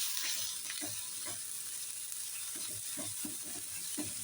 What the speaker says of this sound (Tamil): நம்ம வச்சுருந்த இஞ்சி பூண்டு பேஸ்ட்டை அது கூட சேர்த்துக்கலாம். சேர்த்து மறுபடியும் கிளறி விடலாம்.